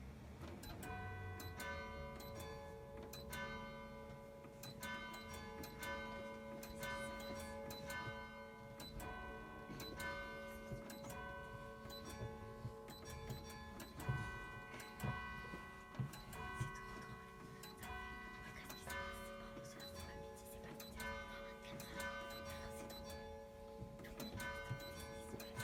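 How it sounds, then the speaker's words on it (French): Carillon bells ring out a lively piece, 'Carillon joyeux', in a steady stream of bright, overlapping strikes with sustained ringing tones, clear and continuous throughout with no voices. "je vais vous jouer ce petit carillon"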